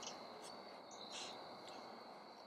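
Crickets chirp steadily outdoors on an evening, with brief faint bird calls over a soft continuous insect background; no talking.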